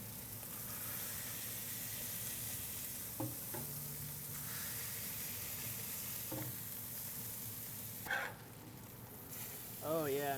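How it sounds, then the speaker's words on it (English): Smash burger with onions frying on a hot griddle, a continuous steady sizzle with some scraping and stirring, a few brief metallic clicks near the end. "Now the onions are gonna get their cook"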